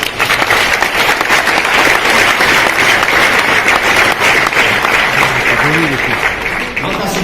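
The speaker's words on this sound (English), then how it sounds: "So, big applause, please." Loud, sustained applause from a large audience at a global summit, dense clapping filling the whole stretch with a voice briefly audible near the end.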